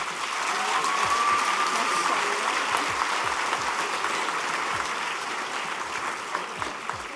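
Crowd applause for the teachers at a high school graduation ceremony in a hall, a dense, steady clapping that holds for about seven seconds and then thins slightly toward the end.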